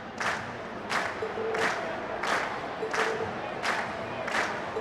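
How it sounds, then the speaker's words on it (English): A video game crowd cheers at a concert in a loud, steady roar, with six rhythmic swells of shouting rising and falling about every 0.7 seconds. "we've heard your cheers loud and clear"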